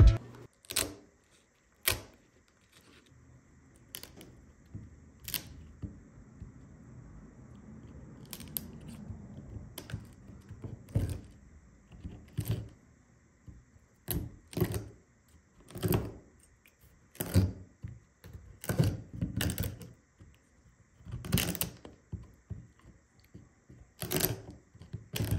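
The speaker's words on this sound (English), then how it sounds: "I really like that chisel breaking the little wood pieces personally" Chisel snapping small wood pieces apart in a woodworking shop, a series of sharp, close cracks and knocks at irregular intervals with soft scraping and handling noise between them, with no talking.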